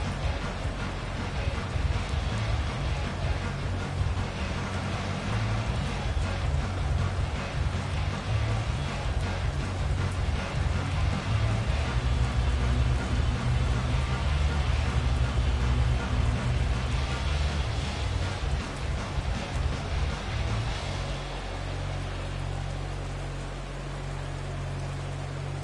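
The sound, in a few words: rain and thunder in Madden 24 video game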